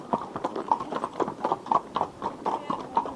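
Horses' hooves clip-clopping on a road during a ride near Pooley Bridge and Ullswater, a steady close rhythm of hoof strikes from more than one horse continuing throughout.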